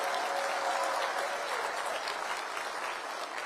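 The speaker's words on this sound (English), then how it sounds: "Let's give a big round of applause to our police" A crowd at a political rally in Etobicoke gives the police officers present a loud, sustained round of applause, an even wash of clapping from start to finish.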